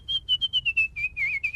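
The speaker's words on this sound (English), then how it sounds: "She whistles." Maggie Simpson, the baby from The Simpsons, whistles a run of about eight short, clear, high notes in a quick rhythm, close and alone.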